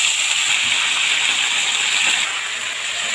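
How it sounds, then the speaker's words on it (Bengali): Ginger paste frying in hot oil in a pan while vegetable khichuri is being cooked: a steady, bright sizzle and hiss that holds even throughout and eases off slightly near the end. "আদাটা একটু তেলের মধ্যে ভেজে নেব।"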